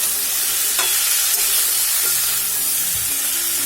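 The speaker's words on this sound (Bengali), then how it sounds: "হলুদ লবণ দেওয়ার পরে সবজিটা একটু ভালোভাবে নাড়াচাড়া করে নিতে হবে" Mixed vegetables with turmeric and salt are stirred in a hot pan, giving a steady, close sizzle with soft scraping and clacks of the stirring utensil throughout, with no voices.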